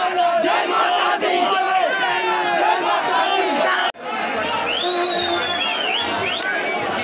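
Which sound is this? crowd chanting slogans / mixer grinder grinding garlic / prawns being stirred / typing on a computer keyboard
crowd chanting slogans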